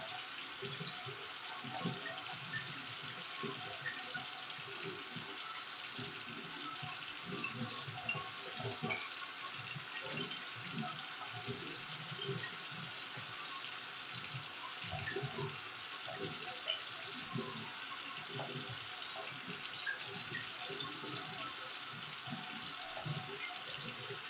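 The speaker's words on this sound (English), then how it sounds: "And wash my hands for 30 seconds." Hands washed under a running tap, a steady close splashing rush of water that continues without a break for the whole stretch, with no talking.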